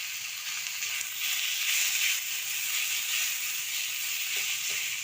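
Saag greens sizzle steadily in a hot pan, a continuous bright frying hiss close to the mic with a few faint stirring clicks.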